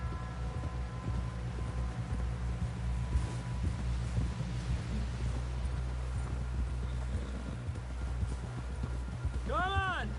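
Rhythmic clip-clop of horse hooves at a run in Red Dead Redemption 2, steady and fairly quiet across the whole stretch beneath a low hum, with a rising musical tone near the end.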